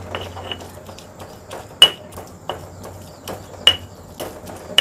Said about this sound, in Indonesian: Oke, sekarang saya ulek teman-teman ya.